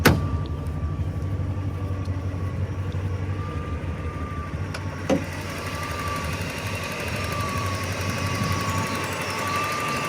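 A Porsche 928 V8 idles steadily with its bonnet open, heard close up. The engine note is an even rumble with a faint steady whine, and a single sharp click sounds midway.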